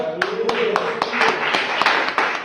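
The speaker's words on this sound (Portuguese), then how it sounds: "Palmas ao Senhor." A church congregation claps in time to praise, sharp regular claps about every quarter second over a murmur of voices and a sustained sung or spoken tone, moderately loud and close.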